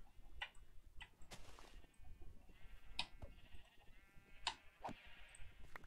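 Several short, quiet bleats from Minecraft sheep, spaced irregularly over soft background ticking, with no talking.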